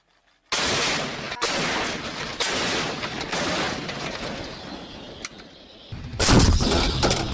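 Heavy military artillery guns firing in a series of loud, booming blasts, each one filling the space with a rumbling roar that trails off before the next shot, with a final powerful report near the end.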